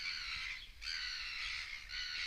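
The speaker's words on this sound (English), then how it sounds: "These gulls are going nuts." Gulls at Manaia camp on the Te Araroa trail in New Zealand squawk in shrill, overlapping bursts, a noisy flock calling almost continuously with a short lull, fairly close and with no talking.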